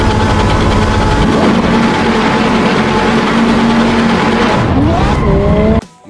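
A toy Lamborghini car blares a loud electronic racing-engine sound with a steady revving whine and tire-squeal effects, ending in a sharp rising rev before stopping abruptly.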